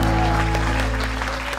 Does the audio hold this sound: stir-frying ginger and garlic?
no